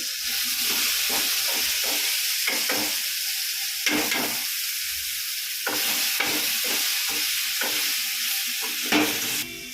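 Spices and rock salt sautéing in ghee in a pan for brinji rice: a steady loud sizzle and hiss throughout, broken by repeated scraping stir strokes of a spoon.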